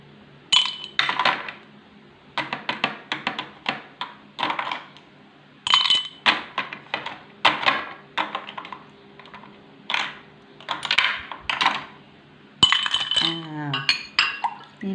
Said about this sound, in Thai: ตักน้ำแข็งใส่ น้ำแข็งที่เราเตรียมไว้นะคะ ตักใส่เลย